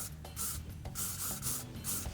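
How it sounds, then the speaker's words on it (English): Hairspray sprays onto styled hair in short repeated hissing bursts, four or so in quick succession, close up and fairly loud, with light rustling of hair handling between them. "I'm going to go in with a little spray"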